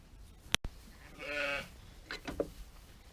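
A ewe bleats once, a drawn-out wavering call, in a lambing pen, preceded by a sharp click and followed by softer shuffling farm noises.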